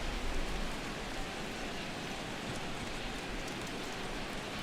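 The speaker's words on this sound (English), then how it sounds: "And Dan, when it comes to pitching in the rain, what changes?" Steady rain falls over a ballpark in the baseball video game MLB 17 The Show, a dense even hiss that holds constant throughout without any voices over it.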